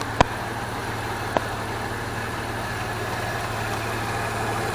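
A 2002 Jeep Liberty 3.7 engine idles steadily after an engine swap, a low constant hum with a couple of brief sharp clicks near the start and no talking.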